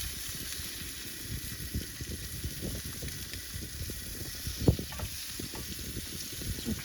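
Meat in a pan, partly cooked and being broken up like ground beef, frying with a steady close crackle and sizzle and a few faint stirring knocks.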